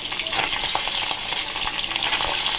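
Tangra fish frying in hot oil, a loud continuous sizzle dense with crackling spatters and pops, close and unbroken for the whole stretch, with no talking.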